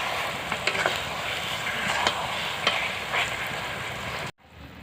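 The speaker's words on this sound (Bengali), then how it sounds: "এবার ভালো করে ফুটিয়ে নেব।" Raw mango pickle with sugar and salt simmering in a pan, a steady close bubbling hiss with a few soft clicks of stirring, continuous and alone until it cuts off abruptly near the end.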